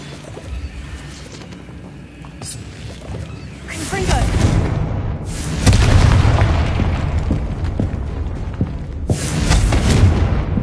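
Confringo fire-blast spell explosions in the video game Hogwarts Legacy: several deep, booming blasts with rumbling tails land over a steady game soundscape, the loudest hitting around the middle and near the end.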